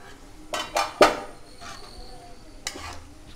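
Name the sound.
stirring duck meat in a pot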